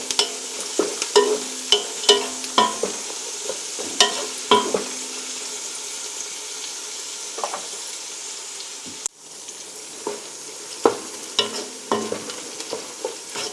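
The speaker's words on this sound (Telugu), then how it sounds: "ఇంకొంచెం బ్రౌన్ కలర్ వచ్చే వరకు వేయించుకుందాం" Six green chilies frying in a pan for jackfruit dum biryani, with a steady sizzle broken by sharp crackles and pops and the occasional scrape of stirring, close and fairly loud, with no talking.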